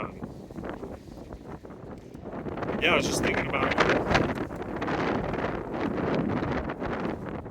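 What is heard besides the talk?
wind blowing into microphone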